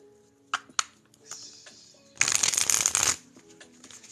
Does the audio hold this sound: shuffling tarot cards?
yes